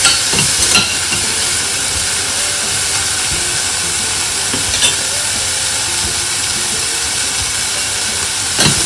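Sweet corn and other ingredients for white sauce pasta fry in a pan, giving a loud, steady sizzling hiss throughout with a few faint stirring knocks.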